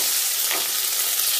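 Boiled eggs frying in hot oil with a dense, steady sizzle and faint stirring, close and loud, with no talking.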